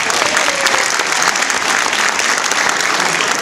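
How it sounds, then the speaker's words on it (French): A room of attendees at a Genas community meeting applauds, loud continuous clapping that stays even and full throughout with no break. "Je pense qu'on peut applaudir François."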